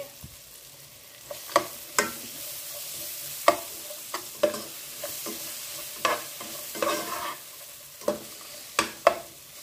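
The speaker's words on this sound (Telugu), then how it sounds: "ఇప్పుడు టొమాటో పీసెస్ని కూడా వేసుకుని బాగా మగ్గించుకుందాము." Tomato pieces and ginger-garlic paste are stirred in a pan while cooking chicken biryani masala. Intermittent scraping spoon strokes sound over a soft, steady sizzle, close and quiet, with no talk.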